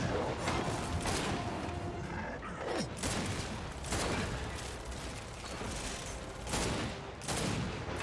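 Repeated bursts of automatic gunfire from the Gears 5 campaign crackle loudly and steadily, with short gaps between volleys and mechanical clatter mixed in.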